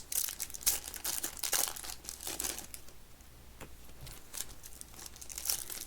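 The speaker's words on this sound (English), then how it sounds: "And the packs are actually easy to open." Foil wrappers of 2026 Topps Series 1 baseball hobby card packs are torn and crinkled open close by, bursts of rustling and crackling with short pauses in between, no talking.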